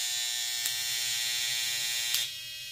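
A Babyliss FX Boost hair clipper runs close by with a steady high, bright buzz that holds evenly for a couple of seconds before easing slightly at the end.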